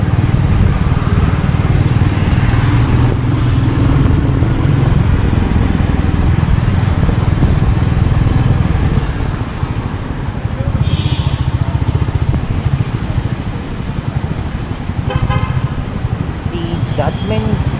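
A Royal Enfield Meteor motorcycle rumbles steadily while riding through Bangalore city streets, engine and wind noise continuous and loud, with a rider talking over it.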